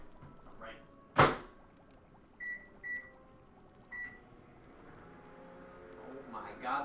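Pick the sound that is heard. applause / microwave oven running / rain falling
microwave oven running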